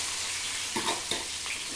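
Sliced onions go into hot oil in a pan, making a steady broadband sizzle with a couple of brief stirring clatters, close and continuous with no voices.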